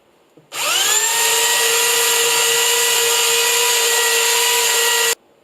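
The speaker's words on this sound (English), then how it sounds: "I use a belt sander to sand the tabletop smooth" Belt sander working a wooden tabletop for a pipe-leg pub table: a loud, steady whirring drone that starts abruptly, holds evenly for about five seconds, then cuts off, with no voices.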